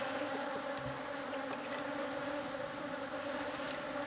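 A steady, dense drone of honeybees fills a hive during a beekeeper's inspection, the buzzing close and continuous with no voices over it.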